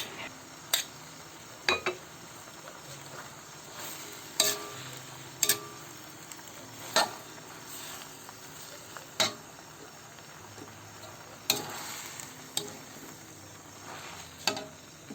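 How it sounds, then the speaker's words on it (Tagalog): Chop suey vegetables with crispy pata bone sizzling in a pan, with occasional clacks of a utensil stirring against the pan over a soft, steady fry. "Paminsan-minsan ay hahaluin na lang natin para hindi ma-overcook yung nasa ilalim."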